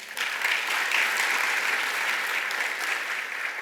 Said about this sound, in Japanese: 本議案にご賛成の株主様は拍手をお願いいたします。